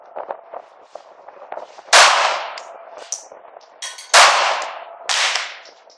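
Guardian .380 pistol fired at a target on an outdoor range: two loud sharp reports a couple of seconds apart, each ringing out briefly, with other shots cracking in between and faint background noise.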